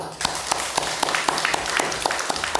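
An audience at a Buddhist dharma talk on the path to the Pure Land claps in unison, a steady rhythmic beat of about four claps per second over a bed of scattered clapping.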